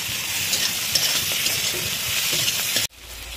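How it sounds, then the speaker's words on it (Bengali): Green beans frying in a pan with salt and turmeric powder sizzle loudly and evenly for almost three seconds, then the hiss cuts off abruptly. "আর এইবারে এটা আর একটুখানি ভাজা হবে"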